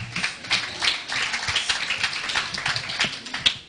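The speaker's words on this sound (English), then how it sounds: "Clap for him." Students in a chemistry class clap for a classmate, a brisk patter of applause from a modest group, uneven and continuous with a few sharper claps near the end.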